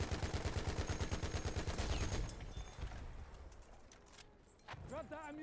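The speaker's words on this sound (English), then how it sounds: "Enemy machine gun." Rapid, evenly spaced machine gun bursts rattle in the Battlefield 1 video game for about two seconds, then give way to scattered distant battle noise and a few warbling tones.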